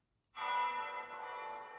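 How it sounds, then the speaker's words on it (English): A single bright bell strike rings out and sustains into a long shimmering decay, marking wedding bells in the visual novel The Talkie, with no voices around it. "Wedding bells followed in the spring of 2015."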